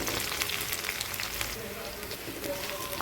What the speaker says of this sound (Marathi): घेतलं की ते लगेच कढीपत्ता आणि मिरची टाकून घेतली.